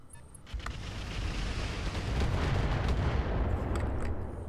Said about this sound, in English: Here comes the missiles.